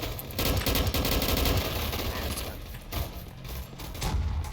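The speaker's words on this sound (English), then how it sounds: "Let's use this AK-47." Sustained automatic AK-47 fire in a gun fight arena video game, dense rattling bursts filling the whole stretch at close range, loud and continuous with brief dips.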